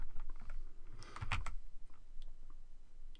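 Keystrokes on a computer keyboard while entering CSS inline style code, a scattered run of light clicks with a denser burst midway, close and fairly quiet with no talking.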